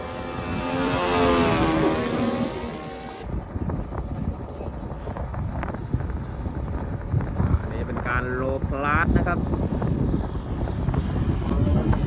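A small propeller airplane drones loudly and steadily at a small airfield in Ayutthaya, with wind buffeting the microphone and engine tone rising and shifting across the stretch.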